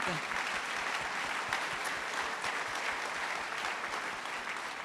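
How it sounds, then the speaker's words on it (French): Sustained audience applause at a formal political event with heads of government, a dense even wash of many clapping hands that carries steadily throughout without pause. "Alors, nous pouvons les applaudir."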